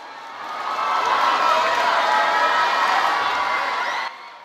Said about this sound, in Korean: 안세영이 모습을 드러내자 환호가 쏟아져 나옵니다.